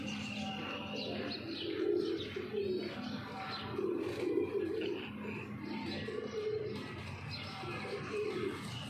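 Royal Teddy pigeons, a Rampuri cross breed, coo in a steady low murmuring chorus at close range, with soft chirps woven through and no talk over it.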